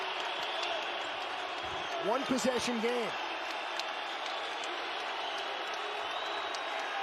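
The crowd at a New Mexico Lobos college basketball home game against Utah State makes a steady, distant arena murmur. A commentator talks over it, and a ball bounces briefly on the court.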